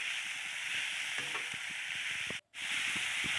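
Cut pointed gourd fries in a hot pan with a loud, steady, close sizzle and hiss, a few light stirring taps, and a brief dropout near the end before the frying resumes.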